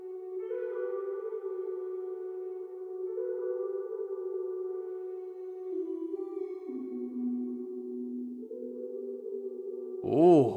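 Music processed through a Storch Filter plugin set to a subtle doubler effect: sustained, smooth tonal chords shifting slowly, followed by a brief louder swelling burst at the end, with no voices.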